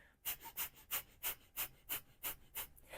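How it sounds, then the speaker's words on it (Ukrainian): Breath of fire in a Kundalini yoga class: rapid, rhythmic forceful exhales through the nose, about nine sharp puffs in three seconds at an even pace, close and alone. "Дихання вогню це активне дихання через ніс із ритмічним рухом живота."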